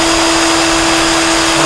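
A small motor spins steadily and loudly, polishing an airbrush needle on a cloth with polishing cream, making a constant close whirring hum with no break.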